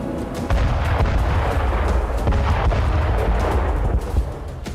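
A Ukrainian strike hits a Russian TOS-1A rocket launcher: a loud, continuous rumble of blasts and crackling detonations, dense and heavy throughout with no speech.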